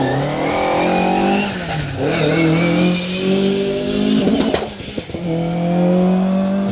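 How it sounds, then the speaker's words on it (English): A Sunbeam Lotus rally car on a stage of the Colin Ellmore Memorial Rally, its engine loud and close, revving high and dropping between gear changes, with a brief rough burst midway. "James Worth in the Sunbeam Lotus"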